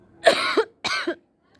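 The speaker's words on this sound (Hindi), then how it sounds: "खांसी मुझे अभी भी आ रही है" Two harsh coughs from one person, close by, one right after the other with a short gap between them.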